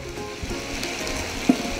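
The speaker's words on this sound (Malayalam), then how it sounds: "രണ്ട് മൂന്ന് മിനിറ്റ് ഒക്കെ ആകുമ്പോഴത്തേക്ക് നന്നായിട്ട് ഫ്രൈ ആയിക്കോളും" Onion paste frying in a pan for a Kerala parrot fish curry gives a steady, fairly soft sizzling hiss with faint scraping clicks and one brief sharper tap near the end, with no voices.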